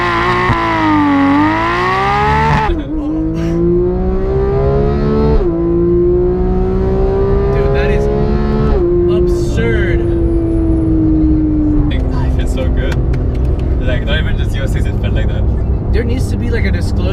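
A Porsche GT3 launches under launch control, its engine note climbing through the revs, dropping at each gear change and climbing again, loud and close the whole time, with a person talking over it.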